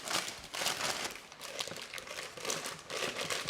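An Italian 55 cm plastic bag crinkles and rustles up close in repeated bursts as it is handled, with no voices.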